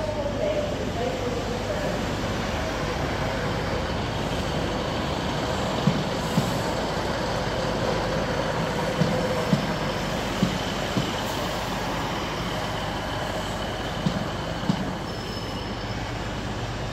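A Class 156 diesel passenger train at Nottingham station gives a steady, loud engine rumble and rolling noise throughout, with faint squeals and metallic clanks, close by amid station ambience.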